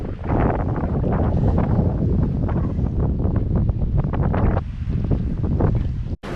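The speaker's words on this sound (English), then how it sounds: "not much wind today, we're motoring" A sailboat motors under engine on the open Pacific in light wind, with a loud steady rushing of wind and water against the hull and a rough continuous churn close to the microphone.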